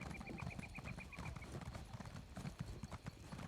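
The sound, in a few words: horse hooves clip-clopping in The Elder Scrolls Online video game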